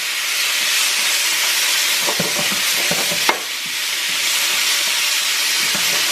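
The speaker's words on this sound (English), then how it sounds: "you keep on mixing this for about 3 to 5 minutes, and your stir fry is ready" Curry shrimp stir fry sizzling steadily in a pan while being stirred, a continuous hiss with scraping and clinking of the utensil against the pan, a sharper clack near the middle, no voices.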